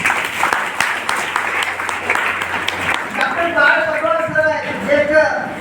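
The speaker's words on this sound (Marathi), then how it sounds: "टाळ्या वाजवण्यासाठी" Audience applause at an essay competition prize-giving ceremony in a school hall, a dense steady clapping that carries for several seconds and then gives way to a speaker's voice over fading claps.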